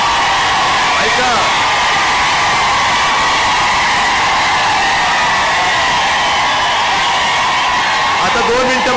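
Large crowd at an outdoor political campaign rally for a Lok Sabha candidate in Dharashiv, cheering and roaring continuously with a dense, sustained wash of voices throughout.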